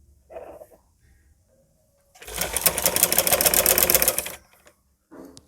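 A sewing machine stitches fabric for a long-sleeve garment design, running in one steady, rapid burst of about two seconds before stopping, with soft handling sounds before and after.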